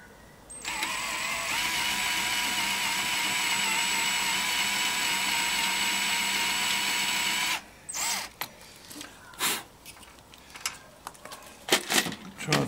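A power drill bores a hole in a PowaWalker ranger part: a loud, steady whine holds for about seven seconds, then stops and gives way to scattered handling clatter and small knocks.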